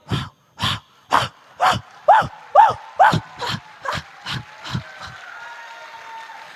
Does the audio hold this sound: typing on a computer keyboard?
no